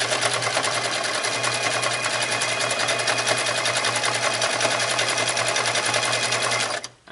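A sewing machine stitches buttonholes on an Elizabethan doublet, running in a steady, fast, loud whir that continues alone and stops abruptly at the end.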